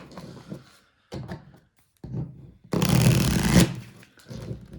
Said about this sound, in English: Let me just give these another quick shuffle.